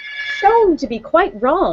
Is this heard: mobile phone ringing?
yes